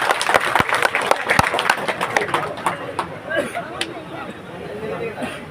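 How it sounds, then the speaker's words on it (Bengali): Crowd applause for the runner-up and champion teams at a sports tournament, sharp claps at first and then fading into scattered clapping and chatter. "এই রানার আপ এবং চ্যাম্পিয়ন টিমকে আমরা সকলে করজোড়ে হাততালি দিয়ে অভিনন্দন জানাই"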